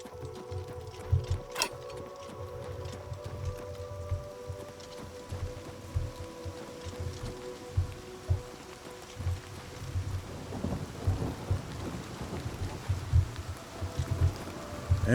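Steady rain with low rumbling thunder in the video game The Elder Scrolls IV: Oblivion Remastered, a continuous wash of rainfall under repeated deep rolls that swell near the end.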